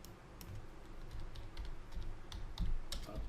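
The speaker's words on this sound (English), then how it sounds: "I'm going to type in here crypto." Keys clatter steadily on a computer keyboard as a search term is entered, a quick run of irregular clicks over a low room hum.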